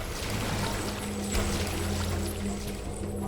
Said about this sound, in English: I can shoot water.